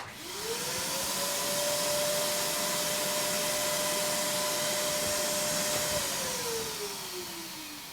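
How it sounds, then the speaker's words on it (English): A wet-dry shop vacuum in a sound-dampening box with its lid open spins up, roars loud and steady with a high whine for several seconds, then winds down as it shuts off. "This is what it sounds like when the lid's open."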